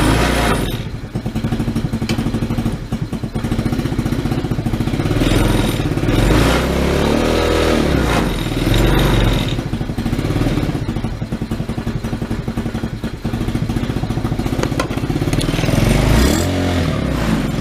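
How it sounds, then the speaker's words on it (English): A Tao Tao 110cc go-kart engine runs with the choke held because it will not idle, a loud, rough, steady close-up drone with rattling clatter and slight surges that continues for the whole stretch. "I'm basically holding the choke right now. It's really loud because it doesn't know how to idle"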